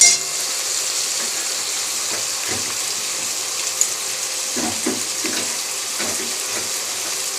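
Potatoes frying in hot oil with whole spices, a steady broadband sizzle with occasional small pops and clinks, no talking.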